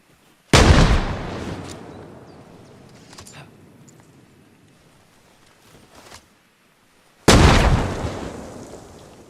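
Two heavy grenade blasts in a combat video game, each a sudden loud boom with a long rumbling decay, several seconds apart, with faint crackles and a brief pop in between.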